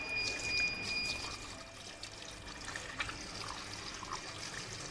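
Diesel wash splashing and trickling over a cylinder head from a 2012 VW Polo TDI diesel engine in a repair workshop, a continuous moderate liquid pouring sound with occasional faint clinks.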